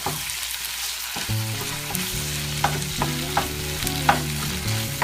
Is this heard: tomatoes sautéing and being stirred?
yes